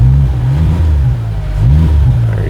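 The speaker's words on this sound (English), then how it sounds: "There you can hear the engine noise." Engine of a CFMOTO U10 PRO XL Highland enclosed side-by-side, a steady close, loud low drone that rises and falls slightly in pitch as it revs, with no talking over it.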